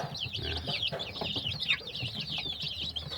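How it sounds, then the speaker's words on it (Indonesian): Native village chicks (ayam kampung), ten young hatchlings, peep and cheep continuously in quick, high overlapping calls, fairly faint and close, with soft rustling beneath. "saya mempunyai 10 anak ayam kampung"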